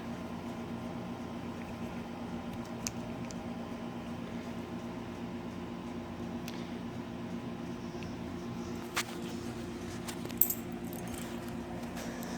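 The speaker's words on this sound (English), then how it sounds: "what are the chances that the key will fit that lock?" Keys jangle softly in a hand while being tried in a lock on a Corvair Lakewood being brought back to driveable condition, faint scattered metallic clinks over a steady background hum.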